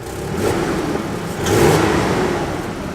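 A truck engine runs loud and rough nearby, swelling briefly as it revs, with a raspy tone from a leaking, broken exhaust.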